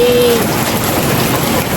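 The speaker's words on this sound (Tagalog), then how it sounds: "sobrang lakas po ng ulan, hindi po tayo makalabas." Heavy rain pours outside a house, a loud, dense and continuous hiss of drops drumming on surfaces throughout, with no talking over it.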